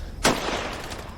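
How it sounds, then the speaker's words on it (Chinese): Gunfire from sniper rifles and pistols in 1920s Shanghai: one sharp, loud bang lands early and then fades into a steady noisy wash, with no further distinct shots. "你听，狙击枪声音好像越来越小了，现在只有手枪了。"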